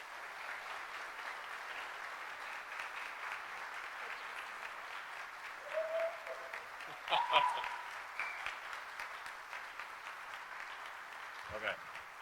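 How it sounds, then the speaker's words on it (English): An audience at a city manager's swearing-in ceremony applauds continuously in a steady, faint wash of clapping, with a few voices and louder claps rising briefly partway through. "Let's give her a big round of applause."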